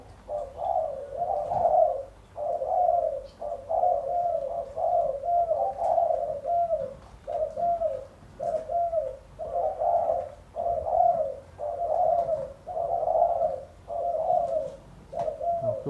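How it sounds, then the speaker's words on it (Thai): An old pet bird coos repeatedly in a steady, rhythmic series of soft, mid-pitched calls with short gaps, fairly close and clear, with no talking. "เป็นนกตัวเก่าแล้วล่ะครับ"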